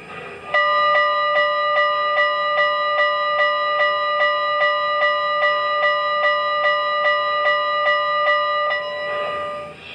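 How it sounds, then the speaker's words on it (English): A model Pennsylvania 6-4-4-6 S1 locomotive bell rings in a steady, even rhythm, about two strokes per second, clear and close for several seconds before stopping. "And now let's check out the bell."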